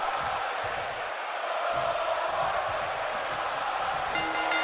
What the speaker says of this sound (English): You hear this crowd, they want to walk with Elias here tonight.